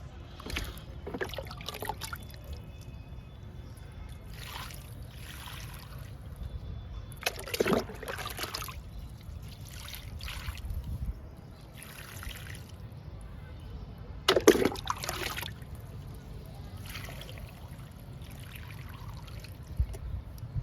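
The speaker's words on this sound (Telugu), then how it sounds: "ఇంకా మల్లె మొక్కకి వాటర్ ఇచ్చేద్దాము." Water is poured onto a jasmine plant in a home garden, giving quiet, intermittent splashes and trickles in short bursts over a soft background hiss.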